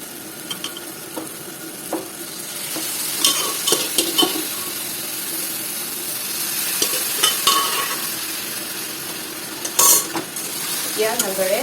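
A spoon scrapes and stirs fried fish with turmeric and taro leaves in a pan: gentle sizzling under irregular clinks and scraping strokes, with sharper metallic knocks now and then, close and moderately loud.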